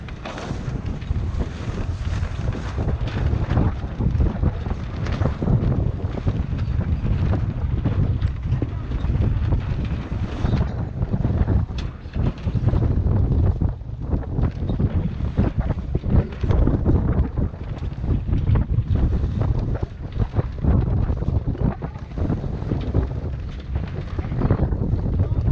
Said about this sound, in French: Opération affalage à grand voile.